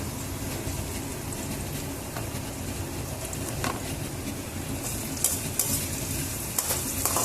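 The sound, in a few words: onions frying and being stirred with salt in pan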